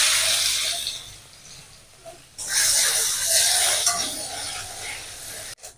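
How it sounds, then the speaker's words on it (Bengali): Chunks of taro corm hit hot mustard oil seasoned with salt and turmeric and sizzle in broad, hissing bursts. The frying swells loudly partway through, then settles into a steady crackle nearby. "এবার দিয়ে দেবো কচুরগাঁটিটা, ভেজে নেব।"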